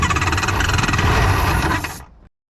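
A '96 Polaris 780SL two-stroke jetski engine cranking over on choke in a loud, steady burst of about two seconds before it cuts off abruptly, with no talking.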